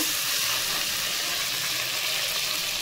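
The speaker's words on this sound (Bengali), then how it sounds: "নেড়ে চেড়ে নেব।" Chopped tomato being stirred into a frying rupchanda fish curry, a dense, loud, continuous hiss of sizzling oil up close, with no voices.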